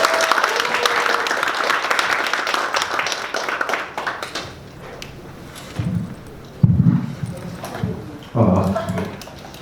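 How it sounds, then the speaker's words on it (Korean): A seminar audience applauds to welcome a patent attorney lecturer, with steady clapping that fades after a few seconds into scattered thumps and movement sounds. "큰 박수로 환영 부탁드립니다."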